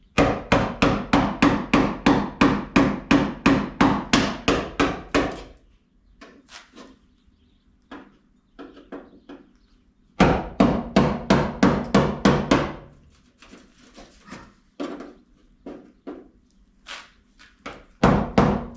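A worn wood chisel is hammered to split spot welds on rusty sheet metal, two long runs of rapid, loud, evenly spaced metallic blows separated by quieter scattered taps.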